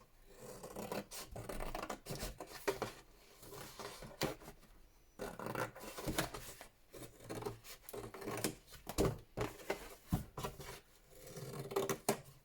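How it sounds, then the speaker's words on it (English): Scissors snip and rasp through coffee-dyed paper, trimming away box flaps and sides in a run of irregular cuts and rustles, close and fairly quiet with no talking. "so I cut all of these pieces off"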